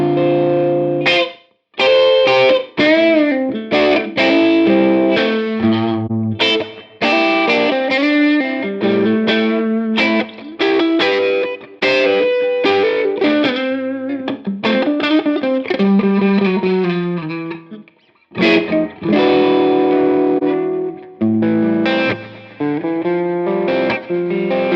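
Distorted electric guitar played through a Two Notes Torpedo Captor X room simulation, with busy riffs and chords carrying a fluttery echo and room ambience, loud and steady with brief pauses.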